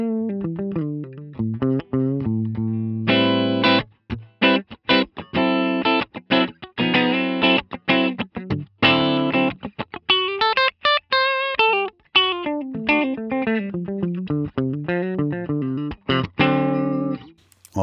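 Gibson SG electric guitar through a D-style amp model with cab and light compression, playing distorted chords and single-note lead lines with chorus-like shimmer, loud and close, starting and stopping in bursts with no talking.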